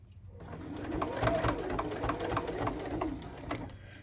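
A sewing machine stitching down vinyl on a luggage tag: a short burst of rapid, evenly spaced needle thumps that rises, holds and tapers off within a few seconds, close and fairly loud.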